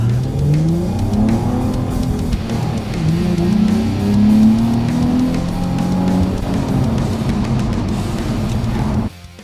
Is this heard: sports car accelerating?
yes